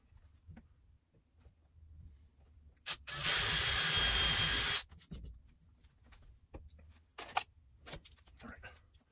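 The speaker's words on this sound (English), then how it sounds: "I'm just going to pre-drill the holes, get them sucked down" Power drill pre-drilling holes in wall panels, one loud continuous whir of about two seconds, with quieter clicks and handling knocks before and after.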